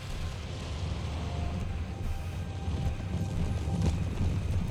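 Light cavalry horses gallop in a battle from the Empire 2 mod, a dense, continuous rumble of many hooves mixed with battlefield noise, steady and loud throughout.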